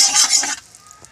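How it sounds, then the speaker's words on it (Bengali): Turmeric stirred into hot ghee in a pan, a bright short sizzle with scraping stir strokes for about half a second, then fading to quiet. "হলুদটা দিয়ে ভালো করে আমি এটা ফেটে নেব"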